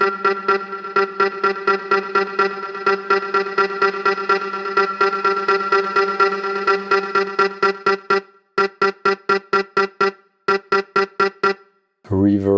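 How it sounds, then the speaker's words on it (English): A chopped vocal in a house music track stutters in a rapid, rhythmic pattern, with delay and reverb effects that build repeating echoes. Short gaps break the pattern near the end. "This has delay and reverb to build it in the breakdowns."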